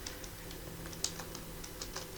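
Keys on a computer keyboard click as a shortcut combination is typed, a short run of light, uneven taps over a faint steady hum, with one sharper keystroke standing out near the middle.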